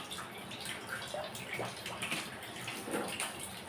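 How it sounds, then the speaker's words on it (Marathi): Plenty of water pours steadily into a cooking pot of Sindhi kadhi on the stove, a soft continuous gushing and splashing at low level with no voices. "भरपूर पाणी टाकायचं त्याला"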